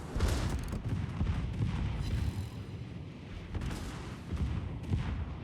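Battleship guns firing HE shells in a naval video game, heard as faint, distant booming rumbles and low thuds rolling through a few seconds of muffled battle sound.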